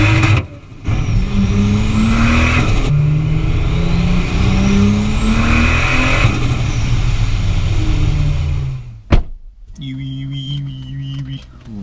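A turbocharged Lexus IS200 with a screamer pipe accelerates hard, its engine rising in pitch through repeated pulls, loud and close, with sharp turbo whooshes and blow-off bursts and a short pause between gears.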